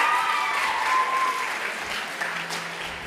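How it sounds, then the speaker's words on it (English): Steady applause from a school theater audience after a one-act play fills the whole stretch, dense and even, with a faint voice briefly rising near the start. "Can we just give another round of applause for our one act?"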